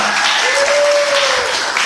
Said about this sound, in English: can we give him a quick round of applause for all the wonderful things he's done?